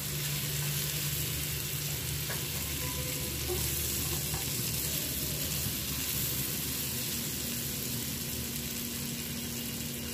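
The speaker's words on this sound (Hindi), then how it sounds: "अच्छे से फ्राई हो जाएगा अभी, इससे बटर का बहुत अच्छा टेस्ट आएगा पनीर में" Paneer frying in butter in a pan, with a continuous gentle sizzle and faint stirring, close and fairly quiet, and no one speaking.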